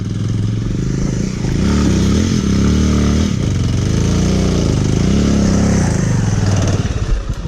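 A motorcycle engine on a rough road revs loudly and continuously, rising and falling in repeated surges of acceleration with some clatter, close up and dominating the scene.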